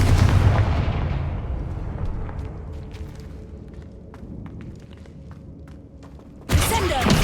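The Confringo spell in the Hogwarts Legacy video game lands as a heavy booming blast that fades slowly over several seconds. A second loud impact bursts in near the end.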